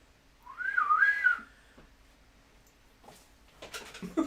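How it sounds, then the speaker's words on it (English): A person whistles a short rising and falling tune for about a second, close and clear. Faint rustles and brief noises follow in a quiet room. "as he whistles"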